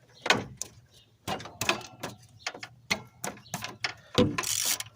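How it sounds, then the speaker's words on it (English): Sharp metallic ratchet-wrench clicks and hand strikes on the wrench while working the 15mm alternator bolt of a 1995/96 GMC Sierra 5.7L, several irregular close bursts with short pauses and a louder rasping burst near the end. "You notice how I hit that wrench like that with an open palm?"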